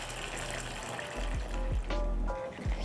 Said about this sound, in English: Add in a little bit of water.